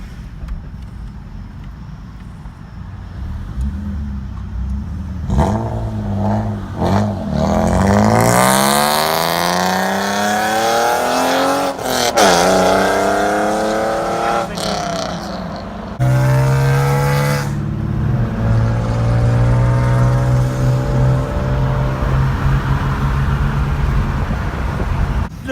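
A BMW pulls away from a car meet, its engine revving up through the gears with rising and falling pitch, while other cars and road noise pass nearby in the background.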